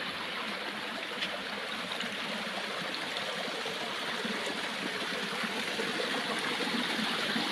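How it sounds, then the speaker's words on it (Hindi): A small waterfall stream pours steadily toward the Narmada river, a dense continuous rush and splash of water, close and even throughout, with no speech. "इस तरह के झरने बहुत सारी जगह पे हैं और ये इन्हीं झरनों का जल मैया नर्मदा में जा रहा है।"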